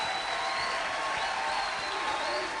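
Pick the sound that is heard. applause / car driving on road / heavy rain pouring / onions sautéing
applause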